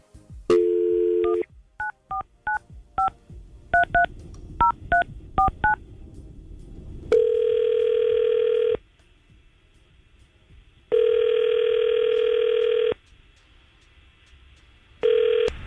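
A string of beeping keypad tones as a number is dialed, followed by three long, loud electronic ring tones separated by pauses.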